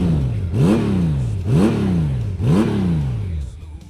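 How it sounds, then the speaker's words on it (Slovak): A Honda Goldwing trike engine revs hard three times in steady succession, each rising whine dropping back before the next, loud and close. "Teraz počúvaj, aký zvuk bude mať pri motore"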